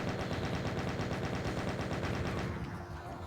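Rapid automatic gunfire in the video game Doom, a steady rattling stream of shots close and loud that cuts off near the end, leaving a fading tail.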